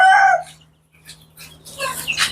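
One-month-old native hill chicken chicks on a farm give a few bright chirping calls, one loud near call at the start and softer scattered peeps after a brief pause, over a faint steady hum.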